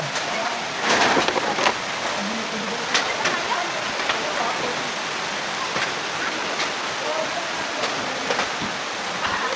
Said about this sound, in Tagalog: Inaabot kami ng ulan